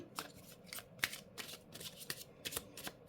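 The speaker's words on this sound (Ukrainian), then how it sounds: "Перетасуємо колоду" Tarot cards are shuffled in quick riffles and taps, a series of sharp crisp bursts at close range with quiet gaps between.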